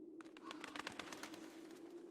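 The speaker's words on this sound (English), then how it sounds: "A nearby bird flapped its wings loudly" A nearby bird beats its wings loudly in the Tiny Bunny video game, a rapid fluttering burst of flaps over a steady low hum.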